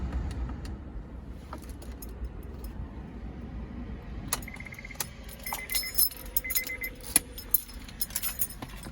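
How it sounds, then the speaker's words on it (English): A 2002 Honda S2000 is shut off, its low engine hum dropping away at the start before a bunch of keys jangles and clinks close by in bright, rapid bursts during the latter half. "let's go and shut down the S2000"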